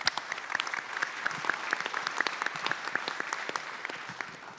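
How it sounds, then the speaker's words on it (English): Audience at a Halliburton Labs finalists pitch day in New Orleans claps for a presenter, a fairly thin, moderately distant round of individual claps that tapers off toward the end. "Please give Ashwin a round of applause."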